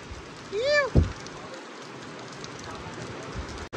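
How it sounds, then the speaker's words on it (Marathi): Soft, steady patter of rain continues in the background, faint and even, with a brief whistle-like tone and a thump near the start. "बाहेर पाऊस चालू आहे बरं का"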